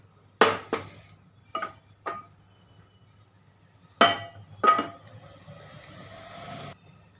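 A pan is set down on a kitchen stove with a few sharp metallic clinks and clatters, spaced apart over a quiet background, followed by a faint sizzling hiss.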